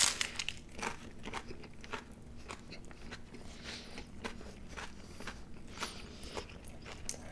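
Crunchy Taco Bell tacos being bitten and chewed close up, with a run of sharp crackling crunches and crinkling wrapper sounds spread across the stretch, fairly quiet and with no talking.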